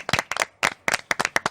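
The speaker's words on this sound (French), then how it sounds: "moi, je voudrais carrément qu'on applaudisse pour le FNAP." Audience clapping in a French-language ceremony or show, a burst of several hands clapping unevenly and close, filling the moment with no speech over it.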